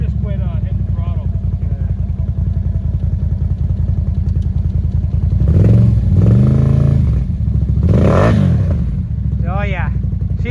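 A Can-Am Renegade 1000 ATV engine drones loud and close, rising in two revving surges as the worn drive belt slips, with voices briefly heard over the engine.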